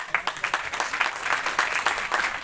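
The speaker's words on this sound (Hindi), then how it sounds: "सभी नैनीताल टूर कॉन्टेस्ट अचीवर्स के लिए जोरदार तालियां।" An audience at a direct-selling business event applauds contest achievers, a lively crowd of clapping with distinct, rhythmic claps pulsing through the sound.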